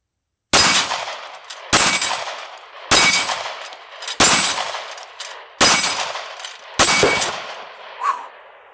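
Six loud sharp shots from a brand-new Glock 19 9mm compact pistol, fired at a slow even pace about a second apart, each with a short ringing decay, no talk.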